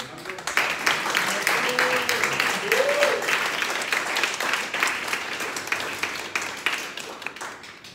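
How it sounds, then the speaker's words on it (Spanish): An audience at a Startup Weekend winners' event in Santa Cruz applauds with dense, sustained clapping for about eight seconds, close and fairly loud, with some cheering voices mixed in. "Un aplauso para Fernando"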